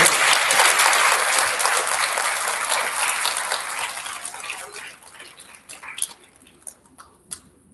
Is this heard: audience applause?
yes